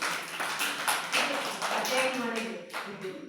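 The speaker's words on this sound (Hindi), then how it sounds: "ताली बजाओ।" Children clapping their hands together in a classroom activity session, a dense burst of many small palms applauding at once, with a teacher's voice talking over it.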